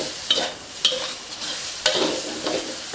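Pork belly stir-frying with curry paste in a hot pan for a Thai jungle curry, with close sizzling and a few sharp scrapes of a spatula against the pan.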